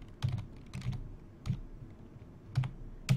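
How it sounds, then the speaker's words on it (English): Keys clatter on a computer keyboard as a Robocopy command is typed, a handful of distinct, close taps spaced irregularly across a quiet room. "we're going to type in our first command"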